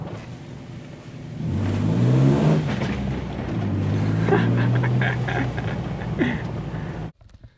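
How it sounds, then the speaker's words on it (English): A Jeep Wrangler Rubicon engine fitted with a throttle controller revs up hard and holds a rising, throaty drone, then cuts off abruptly at the end. "the revs climb much quicker than they used to."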